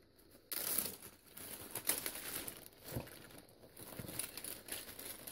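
A plastic bag of pens and pencils crinkles and rustles up close in repeated bursts as it is pulled open and handled.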